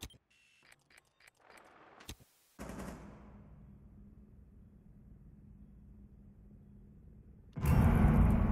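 Gunfire in the tactical shooter Rainbow Six Siege: a few sharp shots and bursts up close, a long rumbling blast with a fading tail, then a sudden loud roar of heavy fire at the end.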